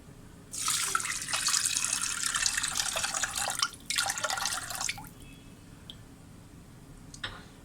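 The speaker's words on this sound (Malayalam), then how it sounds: "ഇനി ഈ അരി വേകാൻ ആവശ്യമായിട്ടുള്ള വെള്ളം നമുക്ക് ഇതിലോട്ട് ഒഴിച്ചു കൊടുക്കാം" Water pours from a glass into a pressure cooker of rice for a milk payasam. There are two splashing pours a few seconds long with a short break between them, then faint drips.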